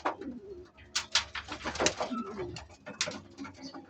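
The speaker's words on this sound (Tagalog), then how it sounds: "Yan na yung ating ibon." Pigeons in a racing pigeon loft coo in several deep, throaty bursts, close to the microphone, with faint background chatter and rustling between the calls.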